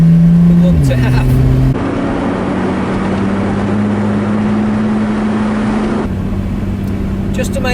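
A Lotus Exige S engine runs steadily in winter, a loud low drone with a gear or pitch change early on, then a sustained even hum close by.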